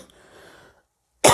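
A single sharp human cough bursts out at the end, loud and close, after a stretch of faint murmuring and a brief silence.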